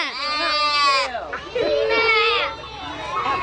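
Child imitating a sheep's bleat on a farm, with drawn-out wavering voiced bleats, close and fairly loud, in a couple of separate calls.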